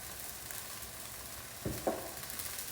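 Olive oil sizzling in a hot pot after browning, a steady broadband crackle with two brief louder pops or spatters near the end, close and fairly quiet, no talking.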